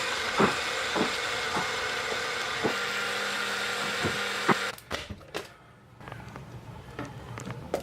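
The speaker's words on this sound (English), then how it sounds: "And then we just blend it up." A blender purees onion, lime juice and salt with a loud, steady whirring drone and rhythmic knocks for several seconds, then cuts off, leaving quieter clatter and handling noises.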